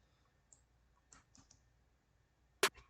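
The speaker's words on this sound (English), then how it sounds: "I click those in too, like just clicking these buttons." A computer mouse clicks while notes are entered into beat-making software, a handful of sparse, quiet taps ending in one sharp, louder click and a softer one, against a near-silent background.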